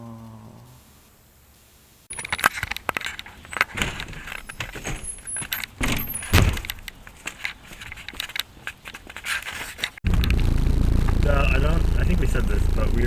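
Heavy vibration inside a new car on a test drive: a loud rumbling drone takes over at the end after a stretch of jangling keys and rattling, with people talking during the clip.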